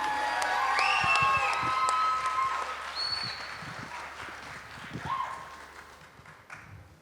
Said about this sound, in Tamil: உண்மையில் அவ்வளவு ஒரு உற்சாகமான கரகோஷம் எங்களுக்கு கிடைத்தது